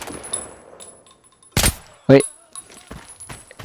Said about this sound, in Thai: นั่นไงมันยิงมาครับ